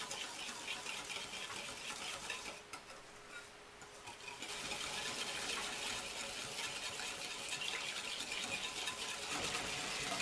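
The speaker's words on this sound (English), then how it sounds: "I'm going to use a whisk right now" Rapid, steady whisking of instant coffee, sugar and water into whipped dalgona coffee, a continuous fast metallic rattle with a brief lull midway before picking up again.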